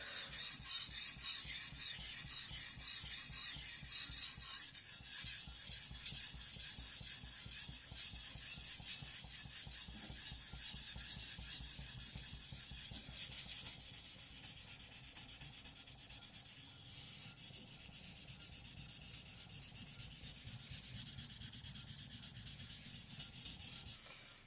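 A knife is sharpened on a Suehiro Rika 5000 grit soaking whetstone. Rhythmic, fairly quiet strokes of wet scraping and rubbing repeat steadily and close up, with no talk.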